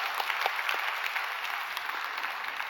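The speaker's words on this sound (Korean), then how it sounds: "우리 격려의 박수 한번 해주시면 좋겠습니다" A church congregation at a Sunday worship service applauds to encourage the children's department. The clapping is dense, even and continuous, heard from within the hall.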